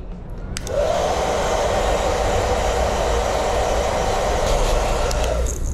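Hair dryer blowing during a men's fade haircut at a barber's, switching on after a few faint clicks and then running as a loud, steady rushing whoosh for several seconds, alone with no talk.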